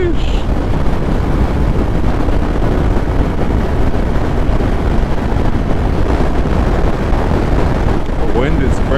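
Strong wind buffets a motorcycle rider's microphone, a loud continuous rushing roar with no letup throughout.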